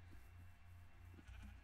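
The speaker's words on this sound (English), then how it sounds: "You okay, sheep?" A Minecraft sheep bleats faintly a few times in short, wavering calls over a quiet game background.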